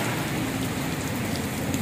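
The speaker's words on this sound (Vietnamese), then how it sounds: "mưa quá chừng luôn" Heavy rain pours down steadily over a Sa Đéc ornamental plant and bonsai garden, a dense, constant hiss with no breaks.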